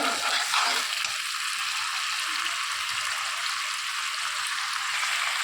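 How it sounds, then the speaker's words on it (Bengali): Mustard paste sizzling and frying steadily in a pan while pomfret curry is being cooked, a continuous close hiss with faint stirring, no voices. "সর্ষে বাটাটা দিয়েও একটু কষিয়ে নিয়েছি, একেবারে শুকিয়ে নেব না"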